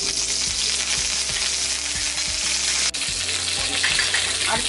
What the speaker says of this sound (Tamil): சோம்பு எல்லாமே அது பொரிஞ்சதுக்கு அப்புறமா கருவேப்பிலை சேர்த்துடுவோம்.